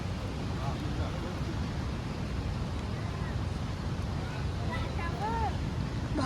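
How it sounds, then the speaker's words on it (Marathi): Broadband wash of sea waves at Ganpatipule beach, steady and moderately loud with wind buffeting the microphone, and a faint voice-like tone near the end. "भाई लाटा बघ"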